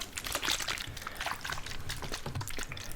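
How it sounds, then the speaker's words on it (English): Water sloshes and splashes steadily inside a plastic water bottle being shaken, a continuous close, bright churning with no voices. "the mix of order and chaos in just shaking a water bottle"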